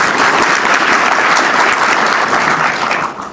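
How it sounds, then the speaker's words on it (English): Loud audience applause during a speech about the African Union joining the G20, a dense, continuous roar of clapping from a large crowd that eases off near the end. "you can give that a round of applause"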